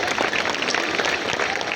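Audience clapping at a Montessori school gathering in Illandu, a steady dense patter of many hands sustained throughout at moderate loudness, with no voices over it.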